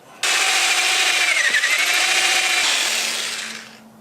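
An old corded electric drill bores out a broken exhaust manifold stud on a Camaro 3.8 V6, a steady loud whine with grinding bite that holds for about three seconds before winding down to a faint hum.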